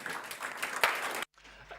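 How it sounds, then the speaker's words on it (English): A short burst of applause from a crowd at a BMW Berlin Marathon press conference, fairly faint, cutting off abruptly after about a second. "An applause for Katrin Müller and Vico Merklein of the handbiker elite"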